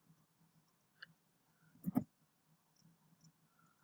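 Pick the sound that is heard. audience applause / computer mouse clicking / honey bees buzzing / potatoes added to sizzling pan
computer mouse clicking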